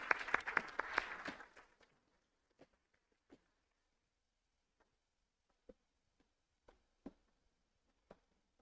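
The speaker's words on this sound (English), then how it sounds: "Give them a warm applause." An audience at a youth conference claps to welcome speakers onto the stage: a short burst of applause that fades out within two seconds, followed by near silence broken by a few faint, scattered knocks.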